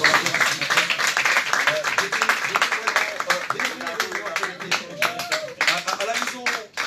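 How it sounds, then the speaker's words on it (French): An audience claps at a live televised event, dense steady applause filling the space at close range, with voices talking above it. "est-ce qu'on peut applaudir pour le défi en fait"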